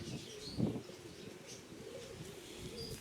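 Close, quiet pigeon wing flaps burst once near the start, with soft pigeon coos and faint chirps continuing in the background.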